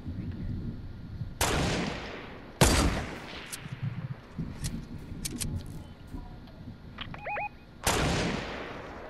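Sniper rifle shots in an online shooter video game, several loud sharp cracks spaced a few seconds apart, with smaller clicks and metallic reload clinks between them.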